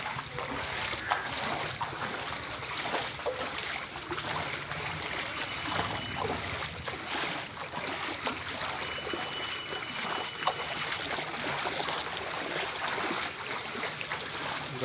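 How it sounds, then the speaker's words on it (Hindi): Someone wades through flood water in a street in Silchar, a continuous rushing, sloshing wash of water that stays steady and fairly loud throughout, without talking. "आप देख सकते हो मैं भी पानी में चल रहा हूँ।"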